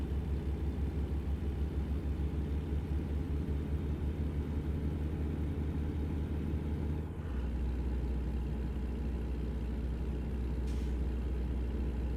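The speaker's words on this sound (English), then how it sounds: "I've been listening to this truck quite a lot" A truck engine runs steadily in a cab while driving in Iowa, a deep continuous rumble with a brief dip and shift in tone partway through, as if changing gear, heard from inside with no talk.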